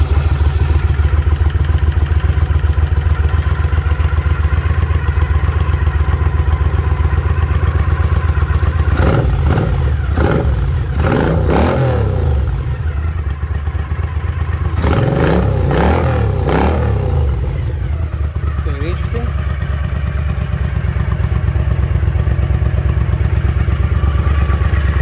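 A Honda CX500 cafe racer fitted with 12-inch shorty mufflers idles loud and close, a constant deep drone broken by two clusters of sharp throttle blips, with no talking.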